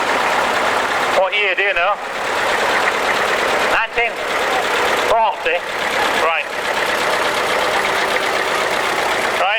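A 1940 International Standard W4 tractor idles at a steam rally, a close and steady mid-pitched engine rumble that runs through the whole clip. A short conversation carries on over it.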